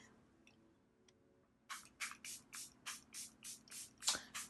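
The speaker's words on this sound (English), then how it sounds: "now let's go ahead and set with our Charlotte Tilbury setting spray" Charlotte Tilbury setting spray misted onto a face, about ten quick pumped hisses in a steady rhythm after a near-silent start, close and clear.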